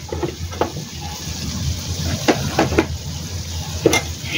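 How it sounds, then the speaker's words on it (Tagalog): Food stirred as it fries in a pan with oyster sauce and a pinch of salt, with leftover duck about to go in: a steady low sizzle runs throughout, broken by a few sharp scrapes and clinks of the utensil against the pan, and no voices. "Ayan, haluin uli natin."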